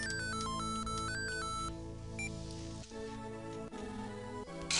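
A telephone rings in the video game Mother 3, a quick run of bright electronic chime tones at the start, then fading under soft, quieter background music.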